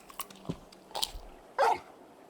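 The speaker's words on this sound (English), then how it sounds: "You're just a big puppy, aren't you? A very big puppy." Torgal, a big dog in Final Fantasy 16, gives a few short sharp sounds, scattered snaps and a louder gruff bark near the end, close and fairly loud with no talking.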